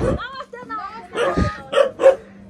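A dog barks and yips a few times close by at a village house in Nepal, mixed in with people talking over it.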